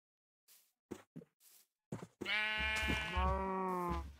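A Minecraft sheep gives a clear, drawn-out bleat, preceded by a few short soft game noises, and stands alone with no talk over it.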